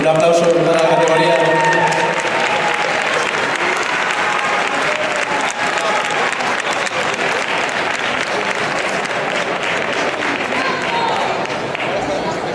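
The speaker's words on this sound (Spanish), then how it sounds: "Un aplauso para la categoría." Audience applause at a female bodybuilding championship in Spain, a dense sustained clapping from a large crowd that fades slightly at the end, with an announcer's voice briefly audible at the start.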